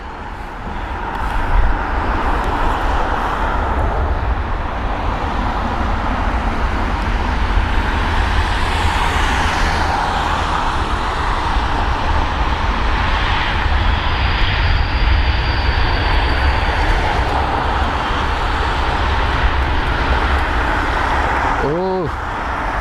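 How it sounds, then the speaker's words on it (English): An Airbus A380 airliner exits the runway at too much speed, its engines giving a steady, loud broadband roar that persists throughout, with a brief sweeping tone near the end. "This Airbus A380 carrying too much speed while exiting the runway."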